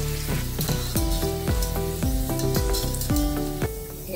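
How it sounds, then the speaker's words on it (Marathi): Shankarpali, crisp Diwali cashew namkeen pastries of wheat flour, fry in hot oil until golden, a close sizzle with background music and repeated tonal notes laid over it, no voices. "असं गोल्डन कलर येईपर्यंत तळत राहायचं."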